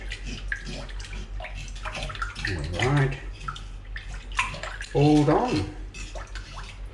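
Tap water running into a sink while a fish is rinsed under it, a continuous splashing flow with gurgles and bursts as hands move, under brief speech.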